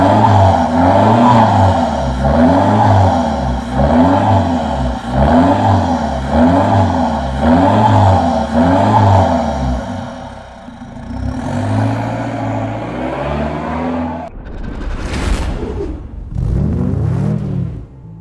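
Diesel Ford Mondeo with a tuned exhaust revs repeatedly in a steady pulsing rhythm, loud and close, then settles to a rough idle before two sharp blips of throttle near the end; no talking.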